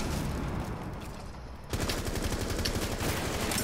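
Rapid gunfire in Rainbow Six Siege, a quiet stretch giving way to dense, loud bursts of automatic fire that run steadily to the end.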